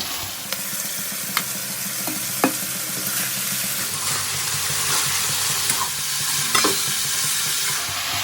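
Cabbage and peas frying in a pan sizzle steadily up close, broken by occasional utensil scrapes and taps as they are stirred, with no one speaking.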